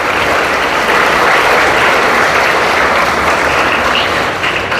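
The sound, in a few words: congregation applause in church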